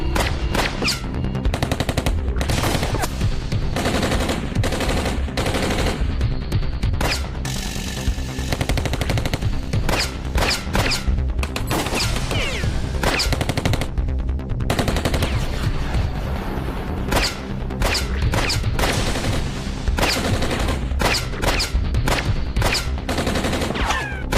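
Sustained machine gun fire from a TV horror serial, loud and close, with dense rapid bursts of shots and short gaps running the whole length and no talk over it.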